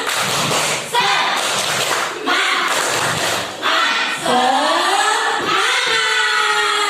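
Children clap together at a school assembly in rhythmic groups of sharp, loud claps, a chant-led spirit clap with short pauses between bursts and a crowd of young voices behind.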